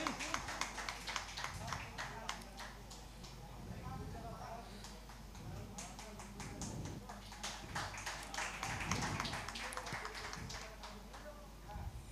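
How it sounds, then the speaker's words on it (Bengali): Applause from an audience at a Bengali opera troupe's launch ceremony on stage, a steady wash of many hands clapping for about twelve seconds with broadband taps throughout, mixed with crowd noise and some voices. "সবাই একটু জোরে হাততালি প্লিজ।"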